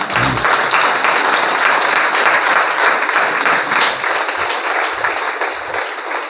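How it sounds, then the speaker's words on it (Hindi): An audience at a DXN product business meeting bursts into loud, sustained applause, dense clapping filling the room steadily for several seconds with no talk over it. "एक तालियां हो जाए"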